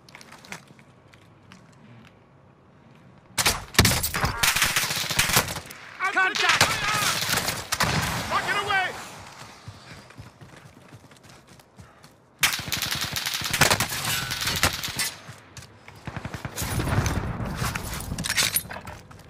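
Gunfire from the video game Call of Duty Modern Warfare, several loud bursts of rapid shots in clusters separated by brief gaps, mixed with in-game noise and some talk.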